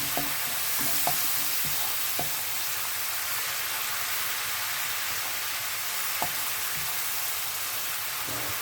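Steady frying sizzle of spices in an aluminium frying pan, with a few sharp scraping clicks from stirring scattered throughout; no voices.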